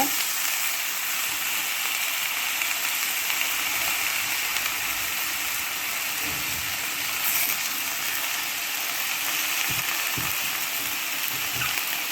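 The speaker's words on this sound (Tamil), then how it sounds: "நல்லா வதக்குங்க நல்லா வதக்கணும்" Drumstick leaves sauté in butter and garlic in a pan, giving a steady close sizzle and frying hiss across the whole stretch, with occasional soft stirring clinks and scrapes and no talking.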